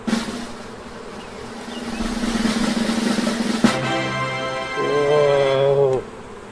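A dense mass of honeybees buzzes inside an opened spring hive, a steady close drone that swells louder near the end with tonal whine layers.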